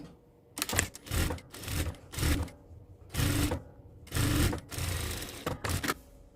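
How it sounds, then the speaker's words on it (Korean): A sewing machine stitches a seam on a twisted dress. It runs in about eight close, loud bursts of rapid needle clatter, separated by brief pauses, with no voices. "박음질 해서 고정."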